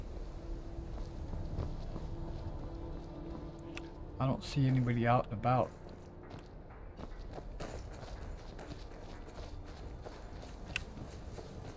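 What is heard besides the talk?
horse hooves trotting in the video game Skyrim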